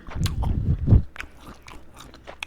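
Chewy Thai fish balls are bitten and chewed close to the mic, with a dense squelchy crunch at first and then softer, sticky mouth sounds and small clicks.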